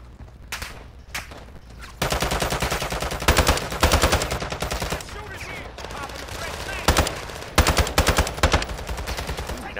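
Rapid bursts of automatic gunfire from the Battlefield video game, loud and near, with several single shots early on and then dense, sustained rattling fire in repeated bursts, broken by short pauses.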